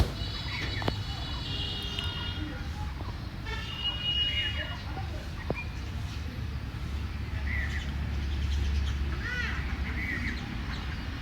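High, chirpy peeping from many Khaki Campbell ducklings at a hatchery runs throughout, scattered and overlapping over a low background rumble.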